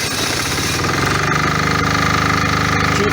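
MEP 831A military generator engine starting and settling into a loud, steady running drone with a harsh knocking clatter, close up and continuous with no talk.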